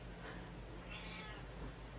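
A house cat gives a single faint, drawn-out meow for attention against a quiet, hissy room background.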